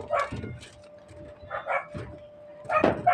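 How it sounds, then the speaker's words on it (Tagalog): A dog barks repeatedly nearby in short sharp bursts, several yips spaced unevenly over a few seconds against a faint steady hum. "Sobrang ingay ng aso guys."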